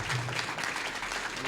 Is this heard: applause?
yes